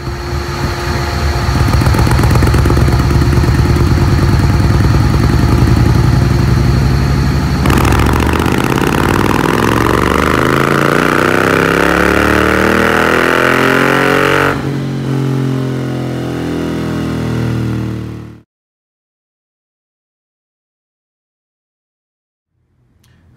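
A 2017 Indian Chieftain motorcycle with a Power Commander tune revs hard on a dyno, a loud sustained engine roar sweeping up through the gears before abruptly cutting off into silence.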